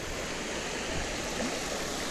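Small creek waterfall flowing steadily on a bass-fishing outing, a constant broadband rush at moderate distance with no talk.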